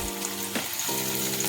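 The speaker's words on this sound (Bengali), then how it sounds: "কড়াতে অল্প সাদা তেল দিয়ে দিয়েছি, এবার তাতে দিয়ে দিচ্ছি রসুন কুচি" Chopped garlic and ginger hit a little white oil in a wok and sizzle steadily and closely. A brief stir or clatter breaks in partway through, with no voices.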